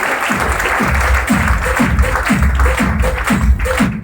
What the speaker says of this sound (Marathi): या सुंदर अशा पाहुण्यांसाठी एकदा जोरदार टाळ्या झाल्या पाहिजे